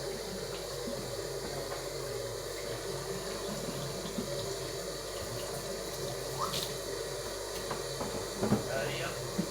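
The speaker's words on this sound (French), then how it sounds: "l'eau elle sort, elle est blanche" Tap water runs steadily over smoked salmon as it is rinsed, a continuous close hiss and splash with small drips, while a voice talks faintly underneath.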